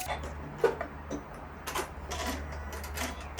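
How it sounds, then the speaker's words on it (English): A home sewing machine stitches bias binding onto a shirt neckline, giving short bursts of rapid mechanical ticking and whirring with brief pauses, close by under a steady low hum. "I'm just going along and stitching down that bias binding"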